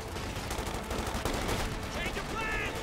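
Bursts of MG42 machine gun fire crackle through a Company of Heroes 2 battle, layered with other gunfire and explosions in a dense, continuous wartime din.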